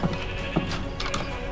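Sheep bleat briefly in Minecraft, a couple of short, moderately quiet calls over a steady background hum, with no one talking.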